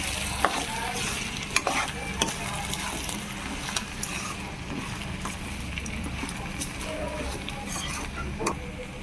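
A spoon stirs spiced prawn curry seasoned with turmeric, salt and chilli powder in a pan, with a steady close sizzle and frying hiss and scattered scraping clicks, no talking.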